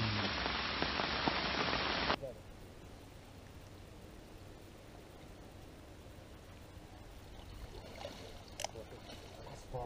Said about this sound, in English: it looks like the rain's happening again